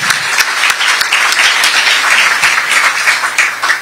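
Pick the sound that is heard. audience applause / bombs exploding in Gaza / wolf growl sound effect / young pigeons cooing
audience applause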